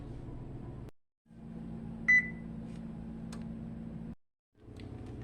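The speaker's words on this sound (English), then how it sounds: "turn on your oven at 350 so it can be preheating" A kitchen oven, set to preheat at 350 degrees, gives a single short electronic beep in the middle of a low steady hum, with two brief silent gaps.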